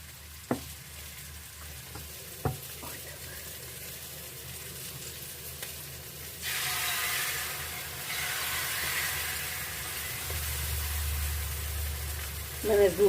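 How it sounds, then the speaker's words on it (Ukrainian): Pancakes frying in a greased pan on a gas stove, with a steady close sizzle that swells louder midway, broken by a few sharp utensil taps and clatters. "Млинці ну смажаться швидко"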